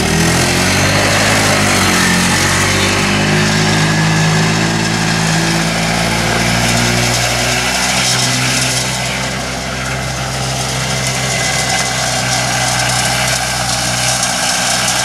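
An old Harley Davidson two-stroke golf cart engine runs continuously and loud up close, a buzzing, rattling idle with a slight dip and recovery in revs partway through.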